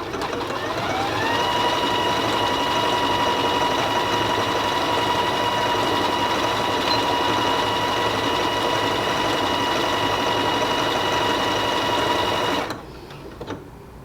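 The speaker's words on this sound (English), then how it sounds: "While it is stitching, I'm randomly going to touch that target button" A Janome Skyline S3 sewing machine stitching a decorative heart pattern hums steadily and loudly up close, then stops abruptly near the end as it completes the stitch on its own.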